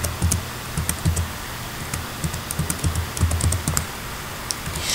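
Keys click rapidly on a computer keyboard as a password is typed, a close, uneven run of soft taps with small pauses and no talking.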